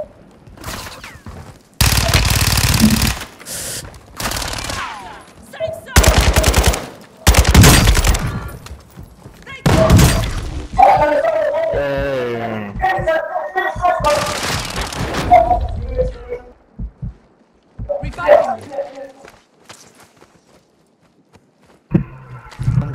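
Gunfire in the video game Modern Warfare 2 comes as scattered bursts and single shots between quieter gaps, with players talking excitedly over it.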